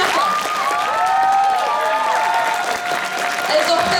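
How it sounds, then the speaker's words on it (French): Loud crowd applause and cheering at a cosplay solo contest awards ceremony, continuous clapping mixed with shouts and whoops, with voices calling out over the noise. "On les applaudit bien fort"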